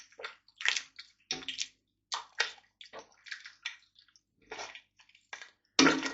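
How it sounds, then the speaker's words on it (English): Chicken noodle soup stirred in a pot on the stove, giving a run of short wet sloshing and squishing swirls in uneven bursts, fairly close and moderately loud with quiet gaps between strokes. "give that a good stir"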